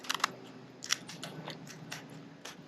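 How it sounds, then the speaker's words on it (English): Scissors snip through a scup fish being cleaned for frying, cutting from the back forward. The snips come as quiet, close clicks in a few short bursts. "So the first thing I do, grab a set of scissors"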